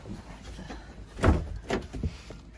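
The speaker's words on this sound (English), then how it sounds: "I'll open the doors." Sprinter camper van doors being opened, giving a couple of soft thunks and a sliding clatter at moderate distance, with quiet background and no speech.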